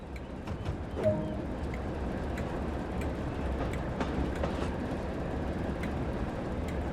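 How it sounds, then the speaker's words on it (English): A diesel locomotive from a West Somerset Railway train simulator rolls along the rails with a steady low rumble and faint rhythmic clicks, a continuous even drone throughout. "Great work, the locomotive is on the move."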